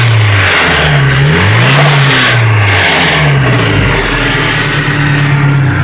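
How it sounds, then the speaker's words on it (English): A 1988 Nissan Hardbody pickup with a swapped SR20DET turbo engine and an eBay blow-off valve revs loudly and up close. The engine pitch climbs and falls through several blips over a steady idle, with no talking. "Rev it up here so you can hear it."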